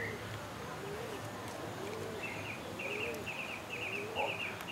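Pigeons in an outdoor setting, with soft cooing calls repeating in short bursts at moderate distance over a constant insect or cricket buzz.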